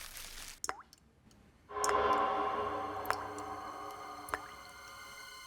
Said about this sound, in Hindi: शायद कुछ टपकने की आवाज आ रही है।